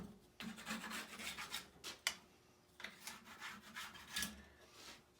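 Ski edges being scraped clean of excess wax at home, a series of close, dry rasping strokes in uneven bursts with brief pauses between them, no voices.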